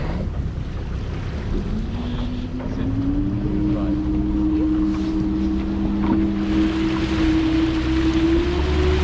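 A motorboat carries passengers back across Kachemak Bay from the state park toward Homer, its engine droning steadily beneath heavy wind buffeting the microphone and washing water, with a rising engine tone as it speeds up.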